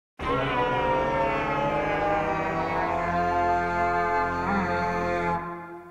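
Minecraft goat horn, Call variant, in-game: a single loud, sustained, rich horn blast that holds steady for about five seconds, then cuts off and fades, heard alone.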